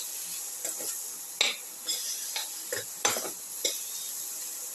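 Chili powder being stirred into a cauliflower and tomato mixture in a pot, heard as a series of close spoon scrapes and clinks against the metal over a faint sizzle and a steady background hiss.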